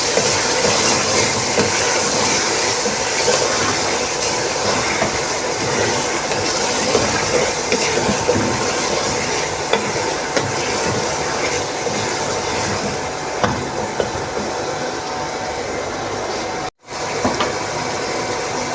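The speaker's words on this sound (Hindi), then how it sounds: "थोड़ा सा इसको हम भूनेंगे, फिर मैं इसमें बाकी मसाले डाल दूंगी।" Chicken sautéing with ginger-garlic paste and tomatoes makes a loud, continuous broadband sizzle that holds steady throughout, interrupted by one brief cut near the end, with no voices.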